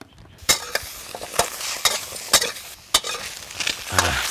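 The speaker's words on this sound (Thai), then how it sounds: "คั่วเข้ากันให้หมดนะครับ" Chili, garlic, shallots and tomato are stir-roasted in a pan, with a steady sizzle broken by repeated sharp clacks and scrapes of a utensil against the pan at an irregular rhythm, close up and with no talking.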